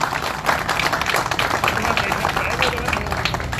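Clapping from a gathering honouring Ustad Chaudhry Qamar Zaman, patron of pigeon keeping in Faisalabad, a dense patter of hands over a noisy room, moderately loud and continuous.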